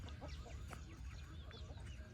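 Chickens in a Lao village at morning, several faint clucks and short honking calls scattered over a quiet rural background.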